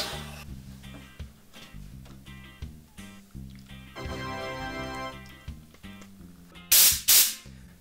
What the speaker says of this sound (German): Druckluft, dein Freund und Helfer